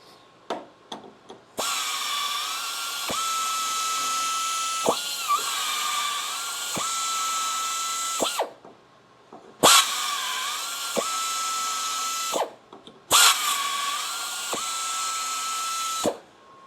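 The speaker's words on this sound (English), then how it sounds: "Let's do 4 holes with the flex arm, compare the time, see how it does." A flex arm tapping machine cuts four holes in quarter-inch mild steel. It gives three long, steady whining runs of motor and tap, each a few seconds, with short clicks and pauses between them, loud and close.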